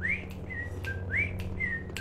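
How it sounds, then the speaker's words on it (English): Someone whistles a short melodic phrase of rising and steady notes, close and clear, over a low hum. "The whistling doesn't bug me."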